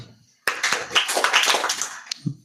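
A burst of hand clapping breaks out after a brief silence, many quick overlapping claps close by for nearly two seconds, fading out with a couple of scattered taps at the end.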